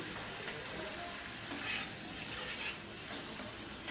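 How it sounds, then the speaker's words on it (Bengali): Ground turmeric, coriander, cumin and chili powder frying in oil in a pan for an egg and potato dish, a dense steady sizzle with faint stirring, loud and close without speech. "এখন মশলাটা ভালো করে আমি কষাই নিই"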